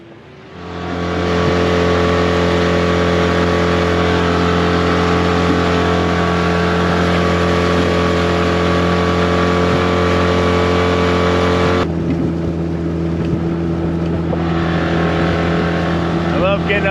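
A small motorboat engine roars loudly and steadily, its pitch holding high as the boat gets up on plane while heavily loaded at the stern, with a brief shift in tone near the end.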